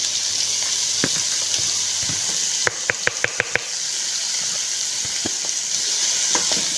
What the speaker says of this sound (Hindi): अब हम इसमें टिंडियाँ डाल देंगे फ्राई करने के लिए।